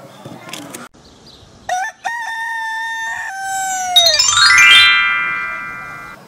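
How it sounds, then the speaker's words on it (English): A rooster crows loudly and clearly in a long, drawn-out call, followed by a bright rising chime that rings out and slowly fades. "Wow, nice rooster."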